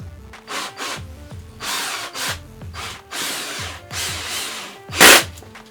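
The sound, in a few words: power drill driving screws into skateboard battery enclosure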